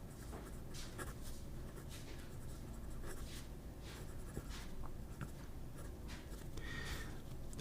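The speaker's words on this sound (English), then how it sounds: "Fast writing" A Leonardo MZG 2.0 fountain pen with a very wet nib writes quickly on paper, giving a steady close scratching and gliding with short stroke bursts, no voices.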